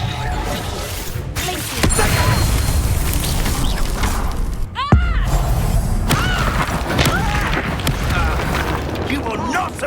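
Incendio fire spells cast in the Hogwarts Legacy wizarding game, whooshing bursts and thumps amid a chaotic battle with crashes, explosions and shouting voices throughout.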